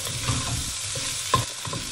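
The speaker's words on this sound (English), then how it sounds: "We're gonna saute that for a minute." Onions and garlic sauté in a hot pan, a steady crackling sizzle broken by several soft scraping stirs, close and fairly loud with no voices.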